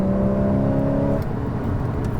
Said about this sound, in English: That's what a double clutch rev match looks like.